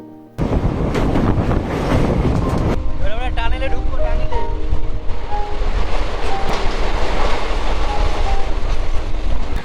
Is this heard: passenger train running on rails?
yes